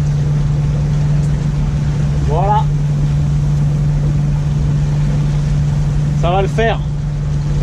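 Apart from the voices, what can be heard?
sailboat running on its engine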